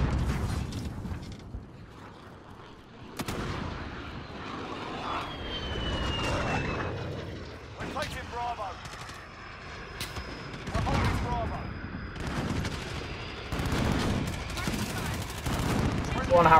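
A Harrier air strike in the Call of Duty multiplayer video game: jet engines sweep overhead amid bursts of gunfire and thudding explosions, with a voice talking over the in-game action.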